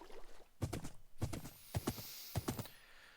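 Hollow, clattering hoof clops from a Minecraft skeleton horse in quick clusters of three or four, repeating a few times with short pauses, close and fairly loud.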